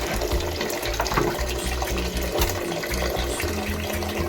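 Tap water runs steadily into a pot of rice being rinsed at a kitchen sink, a continuous splashing gush with some clattering underneath and no talking.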